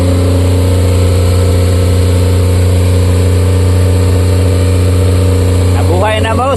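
A Suzuki Multicab engine runs steadily after being brought back to life, a loud, even drone with strong low harmonics held throughout; a voice briefly speaks near the end.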